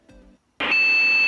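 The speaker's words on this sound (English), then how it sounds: "Two short beeps, this indicates that there has been an error with the video card" A computer's POST beep code sounds after a short faint murmur: a single loud, steady electronic tone that starts abruptly and holds until the end.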